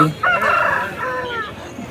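An aseel rooster at a rooster market crows once, loud and close, a drawn-out rising-and-falling call lasting about a second and a half.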